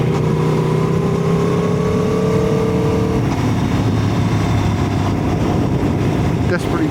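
Aprilia Tuono V4 1100 Factory motorcycle engine droning loud and steady on the road, pitch sliding down as it eases off, with wind noise and a rider talking over it.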